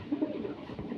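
Racing pigeons give a brief, low, soft coo, close and alone, in a one-second burst.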